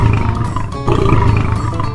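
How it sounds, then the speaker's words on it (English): A lion lets out a loud, close roar, two deep rumbling bursts in quick succession, heard alone. "That's a lion's roar."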